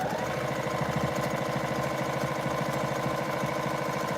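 Domestic sewing machine running steadily as it stitches a tote bag lining along a quarter-inch seam, a continuous close mechanical whir with a fast even rhythm and no pauses.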